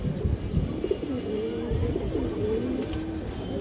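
Pigeons with red eyes and dark plumage coo close by in a series of soft throaty calls, with a brief burst of noise at the start.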